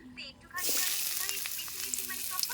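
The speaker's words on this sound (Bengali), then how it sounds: "এবার কড়াইতে তেল দিয়ে দেবো দেবো পেঁয়াজ কুচি" Oil hisses and sizzles steadily as chopped onion hits the hot pan, after a brief quieter moment, with a few light clinks over the frying.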